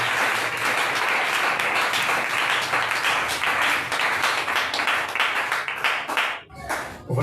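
A Sunday-morning church congregation at a tabernacle in Ignié claps loudly and continuously for several seconds, a dense wash of many hands, tapering off near the end.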